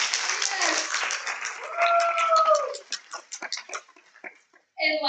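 Audience applause at a TEDx salon evening after a nervous speaker's talk, broad clapping filling the room for a few seconds and then thinning into scattered claps, with a voice breaking in near the end.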